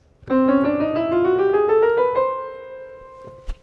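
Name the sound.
piano chromatic scale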